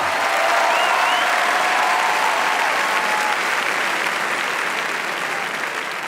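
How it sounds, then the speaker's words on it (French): An audience applauding a guest minister at an evening debate: dense, sustained clapping from a large crowd, steady and loud, fading only slightly toward the end, with faint voices mixed in. "Je vais vous redemander d'applaudir Marlène Schiappa"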